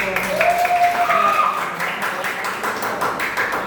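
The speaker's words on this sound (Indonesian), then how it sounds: "Tepuk tangan untuk" A group of people claps together in a steady burst of applause during an Indonesian group question session, with a voice speaking over the clapping.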